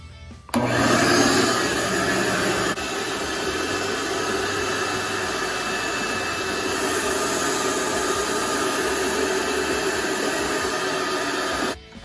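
A shop vac fitted with a dust separator bucket runs steadily, sucking up sawdust with a loud, even roar that starts abruptly, holds for about eleven seconds and cuts off, with no talking over it.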